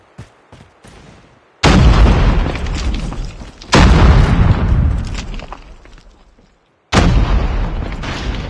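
Frag grenades explode in Call of Duty, giving three heavy booms with rumbling, decaying tails, loud and close, separated by brief quieter gaps.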